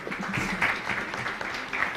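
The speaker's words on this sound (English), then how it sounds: "everybody, please a big round of applause for Benjamin from Firmex" An audience at a startup demo day claps in a dense, fairly close round of applause that rises and falls slightly over two seconds.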